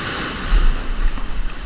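A set of ocean waves breaks over a reef, a loud, continuous roar of surf with a heavier surge partway through, mixed with wind buffeting the microphone.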